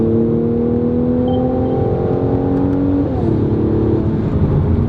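A 2018 Mercedes-AMG C43 Coupe 4MATIC engine holds a steady, loud drone with rising and falling harmonic tones, likely cabin sound while revving, with a brief shift in pitch near the end and no talk.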